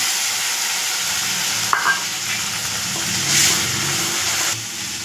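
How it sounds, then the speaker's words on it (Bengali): A paste of onion, ginger, garlic, tomato and green chilli fries in oil for an egg curry with curry leaves, a steady close sizzle with a brief clink and faint stirring scrapes partway through. "এই মশলাটা অনেকক্ষণ ভাজতে হবে"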